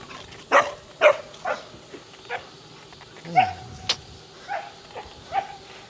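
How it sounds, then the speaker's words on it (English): Several dogs bark in short, scattered bursts at moderate distance along a quiet neighborhood path, with a passing car or mechanical whine in the background. "A lot of dogs around here."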